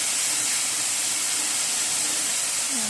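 Masala spices sizzle in hot oil for curry, a steady, close hissing fry that holds evenly throughout with no speech.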